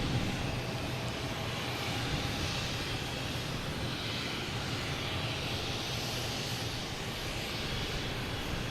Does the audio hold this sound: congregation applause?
no